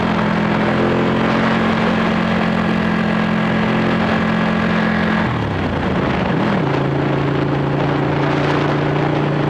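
Ducati 1199 Panigale motorcycle engine, loud and close, holding a steady drone before the pitch drops and then settles at a new level.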